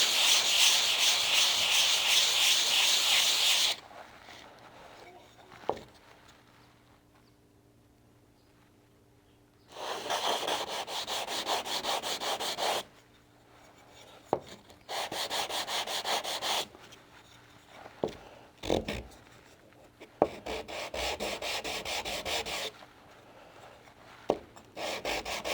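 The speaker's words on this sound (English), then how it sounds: "Do another smoothing of the sides" Wood being hand-sanded to smooth its sides, loud scratchy rubbing strokes in several bursts with quiet gaps between them, plus occasional clicks and knocks.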